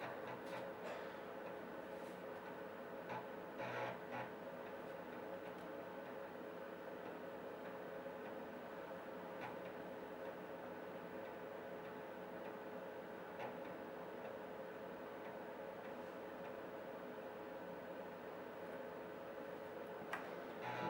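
A Tandy 1000 SX computer boots from a floppy disk, giving a faint steady whir with soft, regular ticking from the drive throughout.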